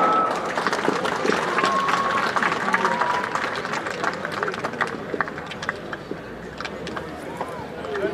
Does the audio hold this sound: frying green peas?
no